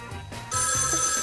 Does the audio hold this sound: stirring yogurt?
no